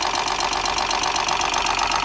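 A three-cylinder engine runs steadily with a dense, rattling mechanical clatter from the timing chain, loud and continuous throughout with no voices.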